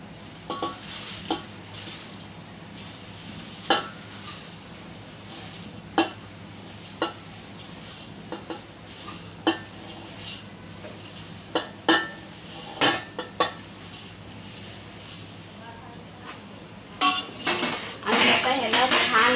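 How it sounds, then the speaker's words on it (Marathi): Poha for chivda is stirred and fried in a pan, with a spoon repeatedly scraping and clinking against the metal over a soft background sizzle. The sharp knocks come in irregular bursts, thickening into a busy clatter toward the end. "छान फ्राय करून घ्यायचा, हलवून घ्यायचे चांगले."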